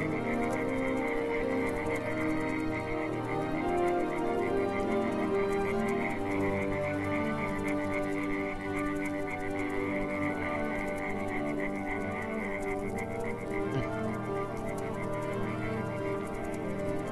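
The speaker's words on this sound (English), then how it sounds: "there's two frogs with this one" Frogs croak steadily inside the Bee Simulator game, a dense, continuous chorus of overlapping calls heard alone, with no talking, sustained for the full length.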